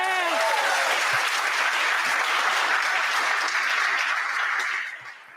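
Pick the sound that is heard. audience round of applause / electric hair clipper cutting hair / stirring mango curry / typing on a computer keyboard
audience round of applause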